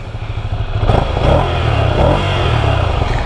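A Ducati Scrambler motorcycle's Desmodromic engine revs loudly up close, its throaty roar rising and holding steady with a rumbling, mechanical clatter underneath.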